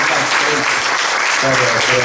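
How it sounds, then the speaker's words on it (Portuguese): Loud, dense studio-audience applause on a live Portuguese TV show, continuous clapping with people's voices and vocal tones mixed in throughout. "Um aplauso"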